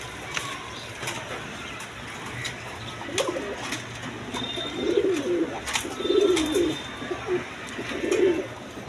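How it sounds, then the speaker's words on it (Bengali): Red Sirazi pigeons coo in soft, low bursts nearby, a few rolling calls clustered toward the end over a quiet background, no talk. "এক পেয়ার সিরাজি কবুতর আছে দেখেন রেড কালারের মধ্যে একদম কোয়ালিটি সম্পন্ন কবুতর"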